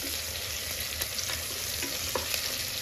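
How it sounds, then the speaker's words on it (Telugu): Chopped onions and tomatoes frying in a pan give a loud, steady sizzle with occasional stirring scrapes, close by and with no talking. "కొంచెం బాగా వేగాలి ఉల్లిపాయలు, లైట్ గోల్డెన్ బ్రౌన్ కలర్ వచ్చిన తర్వాత మనం టమాటో యాడ్ చేసుకోవాలి."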